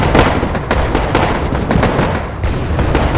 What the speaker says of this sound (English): my PT-76s see them doing it, and go in there and start firing